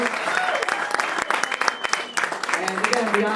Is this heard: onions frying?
no